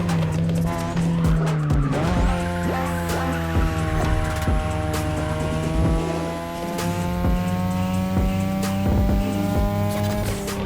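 Racing car in The Crew Motorfest during a Japanese touge-style street race, engine droning loud and close with shifting revs while tires squeal and skid through corners, sustained throughout.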